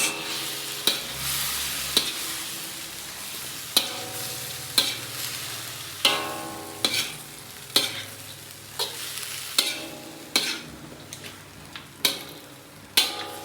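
Shredded cabbage and carrots fry in a pan, sizzling continuously while a utensil stirs and scrapes them at a steady rhythm, knocking sharply against the pan every second or so, close and clear with no talking.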